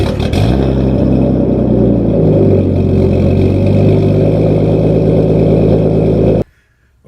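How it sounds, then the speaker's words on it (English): A Nissan Skyline R34 fires up on a cold start, its engine revving loud and close in a steady, rumbling roar, then cutting off abruptly near the end. "I apologize to my neighbors in advance for this cold start of the Skyline"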